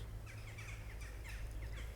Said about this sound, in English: there's a bunch of birds passing by